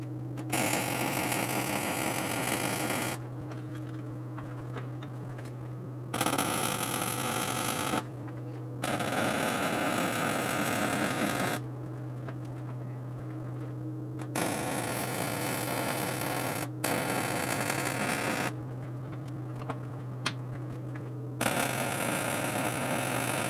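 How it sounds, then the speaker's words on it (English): Welding on a hydraulic cylinder on a workbench produces several multi-second bursts of crackling, hissing arc noise, separated by short quieter gaps, over a constant electrical hum. "So we'll just weld these up on the bench"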